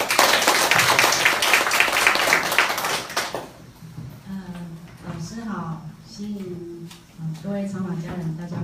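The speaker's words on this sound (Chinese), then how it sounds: "我们鼓掌欢迎" An audience at a group sharing session breaks into loud, dense applause for about three seconds, then the clapping stops and a voice begins speaking.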